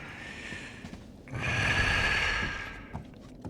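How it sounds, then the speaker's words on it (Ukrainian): A guard snoring in the stealth game Thief (2014), one long loud drawn-out snore swelling and fading after a quieter breathy lead-in, close by with no talk. "Так, тут цей хропить."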